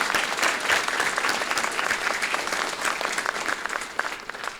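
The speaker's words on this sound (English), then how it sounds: "Can we give her another round of applause?" Sustained applause from a large audience at a university statue unveiling ceremony honoring Harriet Tubman, a dense, steady wash of many hands clapping throughout without a break.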